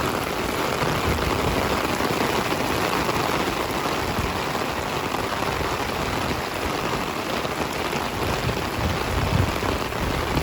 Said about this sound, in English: A lot of times you can see the heavy rain before it gets to you.